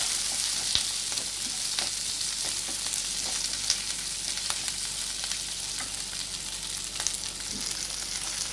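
Soya chunks and capsicum are tossed in a hot frying pan as soya chilli cooks, giving a steady close sizzle with scattered scrapes and clinks of stirring and no voices.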